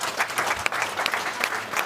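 An audience at a panel discussion on transatlantic cooperation claps in a brief, steady burst of applause from a moderately sized crowd.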